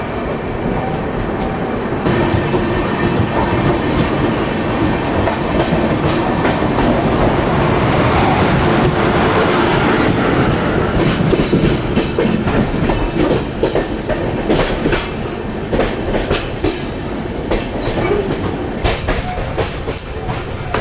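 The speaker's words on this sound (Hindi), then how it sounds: "ये ट्रेन जिसको हम ओवरटेक कर रहे हैं ये है लोकमान्य तिलक से शालीमार के बीच में चलने वाली जनानेश्वरी एक्सप्रेस" Jnaneshwari Express running between Lokmanya Tilak and Shalimar, heard from an overtaking Duronto Express on the Howrah–Mumbai route: a loud, continuous rumble of wheels with steady clickety-clack over rail joints, sustained throughout with no talk.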